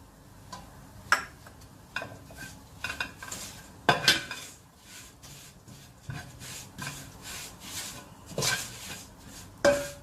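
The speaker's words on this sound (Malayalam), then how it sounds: "ഇതൊന്ന് ഇളക്കിയതിന് ശേഷം നമുക്ക് കാശ്മീരി മുളക് പൊടിയും കൂടി ഇട്ട് കൊടുക്കാം." Chicken being stirred with Kashmiri chili powder in a pan for a Kerala-style chicken roast, a spoon scraping and clinking against the metal in irregular bursts, with sharper knocks scattered among softer rubbing sounds, up close and without talk.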